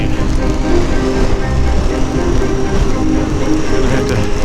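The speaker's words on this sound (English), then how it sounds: "Here comes the rain." Rain starting on a Colorado motorcycle camping trip, a dense, steady wash of noise with a low rumble underneath, loud and close, with no break.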